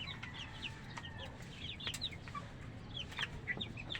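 Hens clucking at a farm, with several short, fairly close clucks and calls scattered over a low, steady background rumble.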